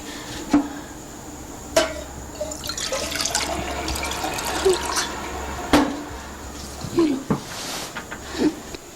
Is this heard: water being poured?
yes